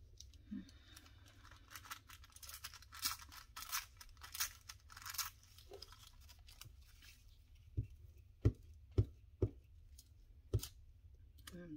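Scissors trim the edge of a paper tag for a pond-themed junk journal. Soft, scattered snips come first, then four or five crisp, sharp cuts in a quick row, close but fairly quiet.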